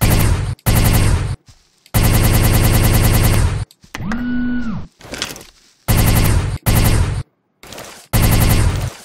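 Video game gunfire, several loud rapid-fire bursts broken by sudden silences, with a brief tonal hum in the middle and no voices.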